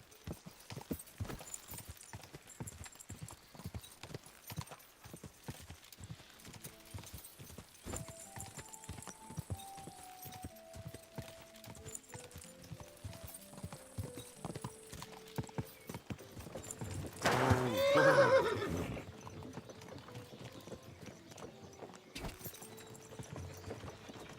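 Horse hooves clip-clop at a steady walking pace over quiet musical tones in the video game Kingdom Come: Deliverance II, with a brief louder whinny-like burst near the end.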